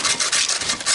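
A wire brush scrubs rust off a metal object pulled up while magnet fishing, giving a close, harsh scratching rasp in quick repeated strokes with no talk over it.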